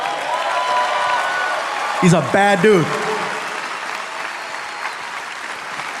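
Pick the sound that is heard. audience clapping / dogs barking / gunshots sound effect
audience clapping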